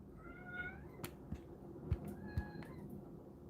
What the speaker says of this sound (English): Hold on, I'm going to go let my cat out real quick.